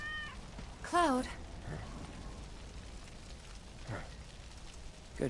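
A cat meows once, loud and close, in Final Fantasy 7 Remake, with fainter cries after it over a steady patter of rain.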